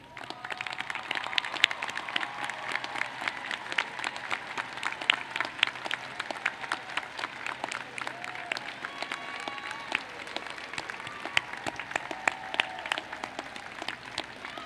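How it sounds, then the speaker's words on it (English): A large crowd at a university commencement for education and social and behavioral sciences graduates gives a sustained round of applause for families and supporters, many hands clapping densely and evenly throughout, with few voices. "ask that you now stand for a well-deserved round of applause"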